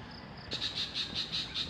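High, shrill chirping calls outdoors in a quiet green area away from traffic, a faint thin trill at first and then louder repeated pulses in a quick regular rhythm.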